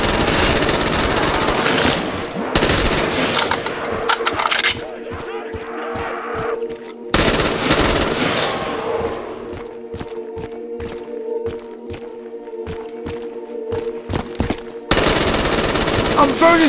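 Rapid automatic gunfire from the Black Ops 3 Zombies custom map Stains of Newark, loud, close bursts of dense shots with short pauses, a sustained hum beneath and brief talk in places.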